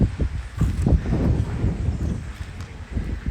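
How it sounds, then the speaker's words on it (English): Gusty wind blows across a rooftop terrace in Dominica, buffeting the microphone with rough, low rumbling bursts that rise and fall continuously over a few seconds. "Sorry, it might be a bit windy up here."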